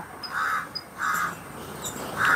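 A crow caws three times outdoors, evenly spaced harsh calls at moderate distance over faint background hiss.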